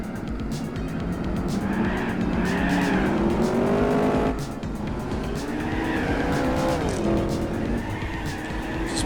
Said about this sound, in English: Just blowing the tires off.